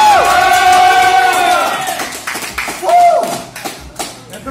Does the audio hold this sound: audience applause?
yes